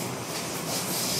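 A Tobu Noda Line commuter train running between Kashiwa and Toyoshiki, heard from inside the car as a steady, loud rumbling roar of wheels and motor with no clear clacks in this short stretch.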